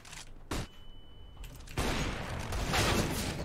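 Video game gunfire comes in short sharp bursts early on, then turns into a dense, continuous crackle of shots and noise that holds steady through the rest of the clip, with no voices.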